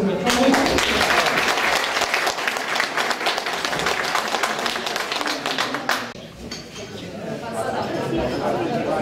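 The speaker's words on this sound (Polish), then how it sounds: "Jeszcze raz oklaski dla oznaczonych." Sustained applause from an audience at a ceremony marking the twentieth anniversary of a local association, dense clapping filling the room and easing after a few seconds, with some murmured chatter underneath.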